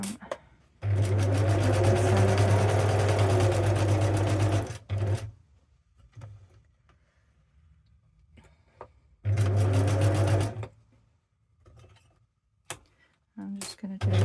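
Sewing machine stitching fabric leaves for an autumn craft, running in two loud bursts of rapid steady stitching separated by a quiet pause with small handling clicks.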